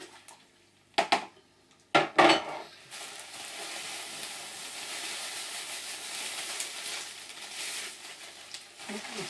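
A home brew all-grain mash gets a vigorous stir in a pot: a few sharp knocks and scrapes of the paddle against the metal, then a steady soft swishing hiss.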